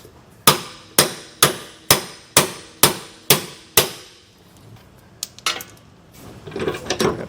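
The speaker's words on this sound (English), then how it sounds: "it's going to need to get pounded out here" Hammer pounding out a leaf spring equalizer bolt on a vehicle suspension, eight sharp, loud metallic blows at an even rhythm, followed by softer clinks and handling noise.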